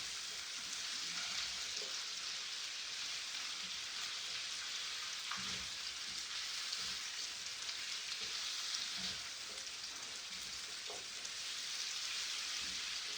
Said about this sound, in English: I'm using bacon grease. And the sausages are starting to get a nice brown to them.